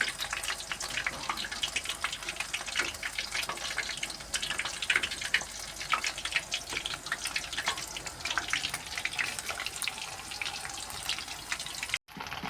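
Chicken popcorn pieces sizzle and crackle in hot oil over a low flame, a steady dense frying hiss with fine popping heard close up and alone.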